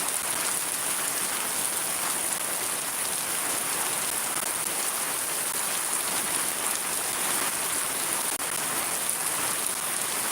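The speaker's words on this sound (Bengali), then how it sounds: "এত বৃষ্টি হয়েছে চকে পানি জমা হয়ে গেছে এত বৃষ্টি" Heavy rain pours down steadily over waterlogged fields in Shariatpur, a dense, even hiss of drops hitting surfaces that holds at the same level throughout, with no voices.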